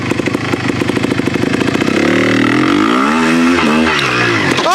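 A Yamaha TY 250 trials motorcycle pulls away in gear: a loud, close single-cylinder engine first chugs in rapid pulses, then rises and falls as it revs and moves off.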